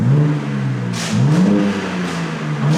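A BMW M2 with its exhaust valves fully open revs several times, deep and loud, each rise and fall of engine note heard up close with no other sound.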